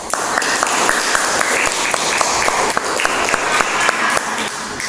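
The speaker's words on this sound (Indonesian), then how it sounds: "Masih tepuk tangan." A class applauds after a group's presentation in an economics lesson, many hands clapping loudly with some sharper individual claps standing out from the steady wash of applause; no speech over it.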